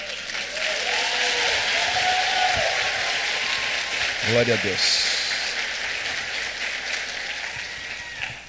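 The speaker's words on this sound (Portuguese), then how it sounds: "vamos aplaudir a palavra do Senhor" A church congregation's applause runs as a steady, moderately loud roar of clapping for several seconds, with someone briefly speaking over it partway through.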